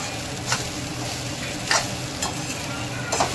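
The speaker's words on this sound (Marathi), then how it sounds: "2 मिनिट याला असं परतवत राहायचं।" Sabudana khichdi stir-fried in a pan, a steady soft sizzle broken by several sharp scraping strokes of a spatula at irregular intervals, close by.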